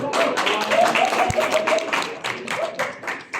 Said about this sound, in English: So another round of applause for Jem.